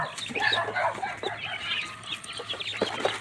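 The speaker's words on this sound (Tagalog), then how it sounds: "dapat na mabigyan ng patuka ang ating alagang sisiw dito sa loob ng kulungan" Young chicks in their pen at feeding time give off scattered high peeps and soft clucks, close and moderately loud, a busy overlapping chatter with no talking.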